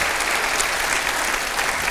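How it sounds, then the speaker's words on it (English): An audience at a United Way Alexis de Tocqueville award ceremony breaks into loud, steady applause, a dense wash of many hands clapping together without a break. "Please give my colleagues a huge round of applause"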